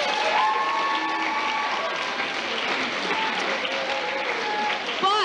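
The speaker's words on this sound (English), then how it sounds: "I think they deserve a round of applause" An audience applauds the tech crew at a 1995 music show, a steady wash of clapping with some crowd murmur and voices mixed in.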